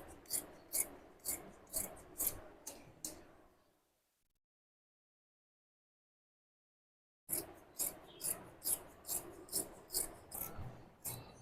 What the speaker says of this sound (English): So now that I've drawn the line, I'm going to cut out all of this.